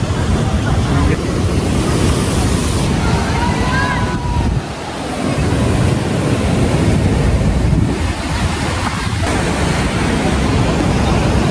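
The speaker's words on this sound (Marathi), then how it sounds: "समुद्र आहे खवळलेला" Rough, churning sea surf at the Ganpatipule coast in Maharashtra roars as a continuous wash of breaking waves, mixed with buffeting wind on the microphone, loud and steady throughout with no pauses.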